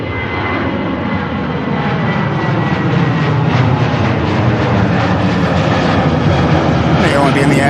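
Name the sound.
aircraft at Manchester Airport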